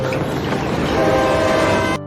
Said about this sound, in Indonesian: tiba-tiba terdengar suara kereta yang mendekat